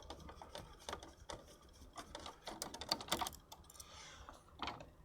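Screws being undone on the bottom panel of a 10th Gen Trident X gaming PC, giving a run of small, close, irregular metallic clicks and ratcheting ticks with no talking.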